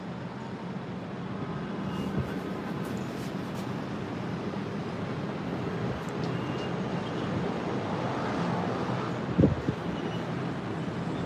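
Gusty wind buffets a camera microphone beside an airport runway at Ninoy Aquino International Airport in Manila, giving a steady, loud rumbling roar that lasts throughout, with one sharp thump of a gust near the end.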